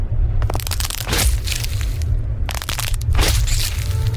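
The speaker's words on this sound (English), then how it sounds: "There was an intolerable crunching noise as, I presume, his shoulders were squeezed and crushed to fit the window frame." Loud crunching and cracking as a body is squeezed and crushed through a car window frame, coming in dense, harsh bursts with brief pauses over a constant low rumble, no voices.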